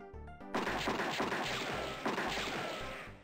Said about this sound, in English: Without warning, you hear gunshots out in front of the saloon, plus lots of yelling and shouting.